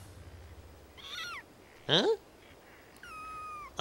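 Kittens meow in short, bright mews, three or four separate cries, close by and fairly loud against a quiet room, with a brief spoken word among them.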